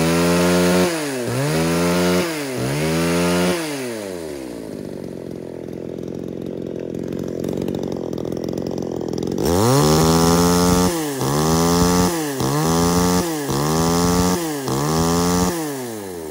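A chainsaw engine revs up and down repeatedly, loud and close, settling into a steady idle midway before revving again.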